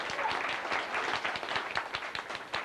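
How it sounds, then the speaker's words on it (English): Theme park tour audience at the Disney-MGM Studios backlot applauds the tour skipper, a lively burst of many hands clapping with sharp individual claps standing out through the steady, fairly close patter. "Let's have a big round of applause for our brave skipper."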